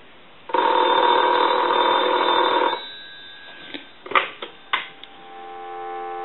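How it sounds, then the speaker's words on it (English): An old Crosley Retro 302 desk telephone bell rings in one long continuous burst, then falls silent, followed by a few clicks and a faint steady dial tone. "we're going to do is go ahead and ring the telephone"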